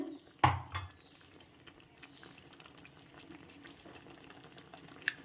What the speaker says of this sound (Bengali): আস্তে আস্তে বেশ ফুটছে।